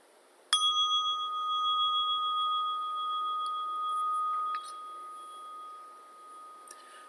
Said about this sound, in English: We'll sound the bell, as we always do, to start the meditation